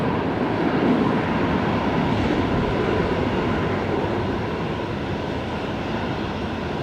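A USAF KC-46 tanker at Brisbane Airport produces a broad, steady jet engine roar, loud and continuous, slowly easing in level without any voices over it.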